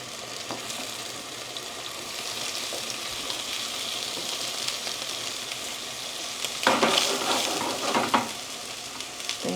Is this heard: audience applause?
no